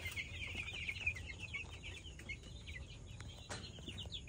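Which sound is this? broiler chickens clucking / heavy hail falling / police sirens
broiler chickens clucking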